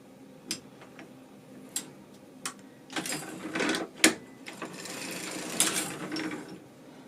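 Needles being lowered one by one on a circular sock knitting machine give sparse, sharp mechanical clicks, then a busier cluster of ratcheting clatter, close and fairly quiet with no talk.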